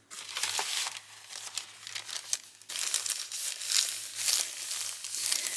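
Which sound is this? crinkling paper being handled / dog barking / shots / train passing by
crinkling paper being handled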